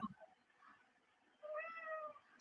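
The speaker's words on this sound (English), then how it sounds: "I have a very loud cat." A loud house cat gives a brief chirp followed by a drawn-out meow, heard close up in a quiet room.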